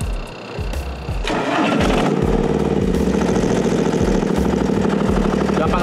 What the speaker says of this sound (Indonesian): Jadi tinggal starter langsung hidup.